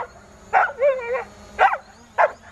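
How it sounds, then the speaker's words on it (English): A dog barks outdoors in three separate bursts, the second drawn out into a wavering, whining howl, moderately loud and close with no talking. "Sorry for the barking dog noise."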